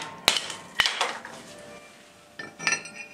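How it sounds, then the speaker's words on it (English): A hatchet strikes very dry kiln-dried wood down onto concrete to split it. Two sharp, close, loud taps come in quick succession, followed by a lighter pair of hits after a pause, each with a bright clinking ring. "I'm just going to use this hatchet to tap the wood down onto the concrete"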